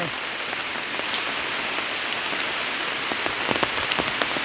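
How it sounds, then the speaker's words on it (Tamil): Rain falls steadily on a garden, a dense, even hiss of drops with scattered sharper splashes, continuous and fairly close throughout with no talking. "மழையாக இருந்தாலும் பரவாயில்ல"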